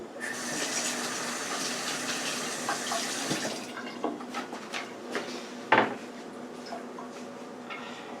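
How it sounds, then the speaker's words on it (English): Tap water runs steadily while hands are washed at a kitchen sink during cooking. After the flow stops, a few clicks and clatters of dishes and a sharp knock follow close by. "Wash my hand."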